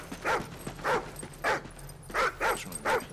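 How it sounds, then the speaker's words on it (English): Riley the dog in Call of Duty Ghosts gives a series of six short, nasal whimpers and yips at an uneven pace, close and moderately loud over a low background hum. "What is this dog up to?"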